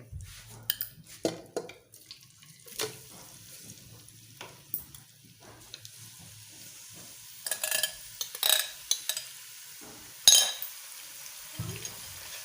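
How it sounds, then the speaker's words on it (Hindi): Bitter gourd being half-fried in ghee with leftover masala, with a low sizzle under intermittent scrapes and clinks of a spoon against the pan, louder stirring bursts toward the end, close and with no talk. "अभी थोड़ी देर जो है इसको भून लेते हैं, हाफ फ्राई कर लेते हैं"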